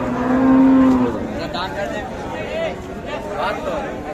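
A cow with her calf at a village cattle market gives a short, loud, low moo near the start, then the hubbub of a crowded haat with people talking carries on around the animals.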